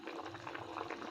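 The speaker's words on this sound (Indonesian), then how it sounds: "ini ikannya sudah mendidih, kuahnya sudah mendidih" Fish broth for Acehnese kuah teucrah bubbles at a steady rolling boil in a pot, a dense, continuous burble heard up close with no talk.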